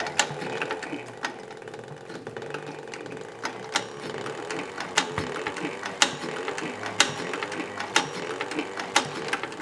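An Artisan Toro 3200 sewing machine stitches a leather holster, with a dense, fast mechanical clatter running throughout and sharp ratcheting clicks popping out every second or so, close and steady with no talk.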